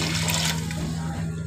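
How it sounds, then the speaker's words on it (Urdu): Broth water pours into a cooking pot while making besan khandvi: a steady, soft liquid rush, fairly quiet and unbroken throughout. "ہم وہ ڈال رہے ہیں شوربے کا پانی"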